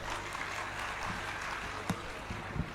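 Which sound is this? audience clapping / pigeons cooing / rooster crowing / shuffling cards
audience clapping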